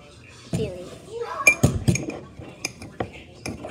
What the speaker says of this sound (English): Make sure you mix it up.